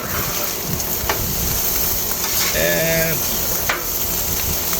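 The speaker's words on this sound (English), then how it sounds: "Stir, stir, and now stir," Spatula scraping and stirring teriyaki chicken fried rice on an outdoor Blackstone griddle, a soft steady sizzle under gusting wind, with a few brief metallic scrapes and a short squeaky tone midway.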